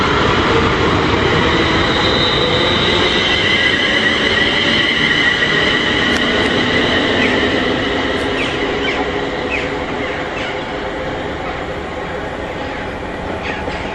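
A freight train running from Tilbury to Daventry rumbles past loudly and steadily, its wheels and wagons sounding as a continuous roar that eases slightly toward the end, with no voices.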